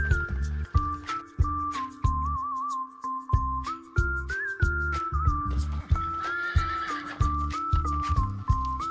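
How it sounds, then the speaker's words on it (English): A horse neighing repeatedly in a farm setting, loud shrill whinnies recurring in an uneven rhythm across the whole stretch, close and clear, no talking. "horse,"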